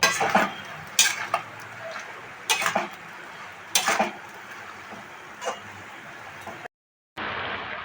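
Grated coconut with a little salt and ground cardamom stirred and dry-fried in a pan, rhythmic scraping strokes of a spatula over a soft hiss, one brief silent gap before the stirring resumes.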